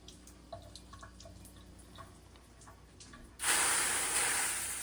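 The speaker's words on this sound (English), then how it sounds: "Get a little water, you throw it on the pan, and you see what the pan does." Water tossed onto a hot pan, first a few scattered drips and small ticks, then a sudden loud burst of sizzling hiss that steadily fades as it evaporates.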